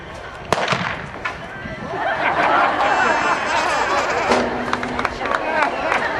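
Rapid pistol shots from a fast draw ring out as sharp cracks, one loud report followed by a noisy burst and another crack, with crowd murmur and laughter underneath.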